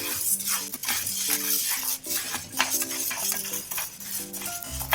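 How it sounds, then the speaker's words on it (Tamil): Urad dal dry-roasting in a pan while being stirred continuously, with repeated close scraping and rattling of a spoon against the metal pan and a faint sizzle underneath. "இந்த மாதிரி கைவிடாம நீங்க கிளறிட்டே இருங்க"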